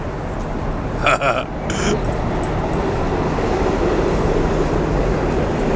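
A New York subway train at 35th and 8th rumbling loudly and steadily, with a brief squeal and clatter early on as the car rolls along.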